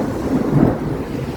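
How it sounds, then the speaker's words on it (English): A short, low rumble of thunder during a rain and lightning storm, a soft swelling boom that rises and fades over about a second, with no voices. "Who turned on the rain and the lightning?"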